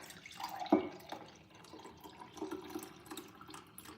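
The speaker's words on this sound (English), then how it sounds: "I'm gonna pour myself up a glass." Lemon and cucumber water poured into a glass, a soft close trickle and drips with a brief clink near the start, quiet throughout.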